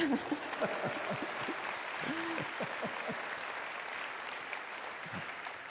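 Scattered applause from a room of people, steady and moderately loud, with a few voices faintly audible beneath the clapping.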